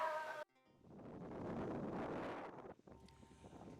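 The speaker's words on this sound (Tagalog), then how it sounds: "biglang lumakas ang hangin at kumapal ang ulap" Strong wind buffets the microphone on Fuga Island, a broad roaring gust swelling for a couple of seconds before cutting off, then lighter rustling follows; a brief tonal snippet is heard at the very start.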